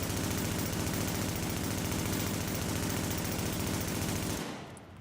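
Sustained automatic gunfire from a weapon in the video game Tom Clancy's The Division, a dense, continuous stream of shots at steady rhythm lasting over four seconds, loud and close, then cutting off and fading out.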